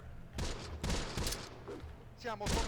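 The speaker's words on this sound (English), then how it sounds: "Whoa, whoa, they're shooting. They are shooting our prisoners." Gunfire in the World War II strategy game Close Combat The Bloody First, a quiet stream of rattling shots and bursts at a distance, with a voice speaking near the end.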